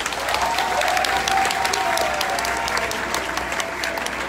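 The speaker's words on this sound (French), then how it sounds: "Il faut applaudir Serge Gassi." An audience at a French-speaking gathering gives sustained, dense applause, loud and even throughout with no speech over it.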